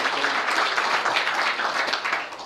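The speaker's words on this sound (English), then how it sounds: "Let's give him a big round of applause" An audience at a fundraiser event gives a man a round of applause, a dense, sustained patter of many hands clapping at a steady, fairly loud level throughout.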